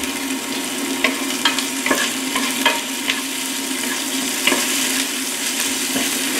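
Oyster mushrooms stir-fry in a pan with ginger and garlic, giving a steady, close crackling sizzle with scattered spatula clicks and scrapes throughout, and no voices.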